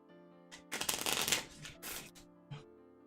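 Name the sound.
shuffling a deck of game cards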